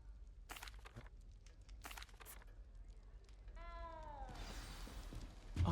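A frightened little cat in the Hogwarts Legacy video game gives a short meow near the middle, with game ambience, footsteps-like clatter and brief bursts of noise around it.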